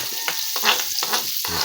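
Garlic and onion frying in a pan while being stirred, a loud close sizzle broken by repeated scraping strokes of a utensil in a quick uneven rhythm.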